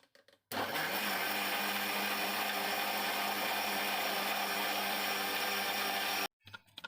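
Mixer grinder blending muskmelon juice, a loud steady motor whir switched on after a short quiet start, running continuously for several seconds before cutting off abruptly.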